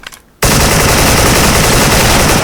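Sudden burst of loud, continuous automatic AK-74 gunfire in the video game Special Force, rapid and close, after a brief quieter moment.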